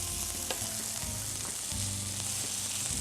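Stuffed squash blossoms sizzle and fry in a pan, a soft, steady crackle of hot oil with small pops throughout, fairly quiet and close, no talking.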